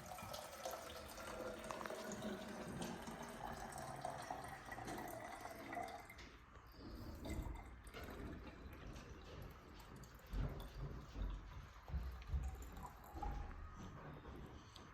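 Water pours steadily into a container during a classroom science demonstration for children. The splashing gurgle runs continuously and shifts in tone partway through, with no talking over it.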